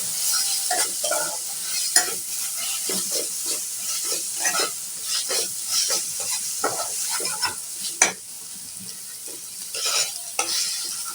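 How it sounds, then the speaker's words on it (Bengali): Ginger garlic paste fries with onions in a pan, with a constant sizzle under repeated close scraping and stirring strokes of a spatula, no talk. "আদা রসুন পেস্টটাকে একটু ভাজা ভাজা করে নিচ্ছি যাতে কাঁচা গন্ধটা চলে যায়।"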